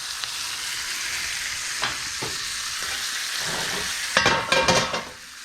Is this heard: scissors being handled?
no